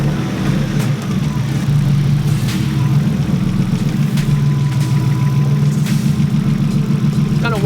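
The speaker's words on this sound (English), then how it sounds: "Alright guys, I'm gonna fire her up, and from there we'll check for leaks" A Nissan 240SX engine fitted with a DIY oil cooler runs at a steady, loud idle close by, its low even drone holding throughout with a few brief sharper clicks over it.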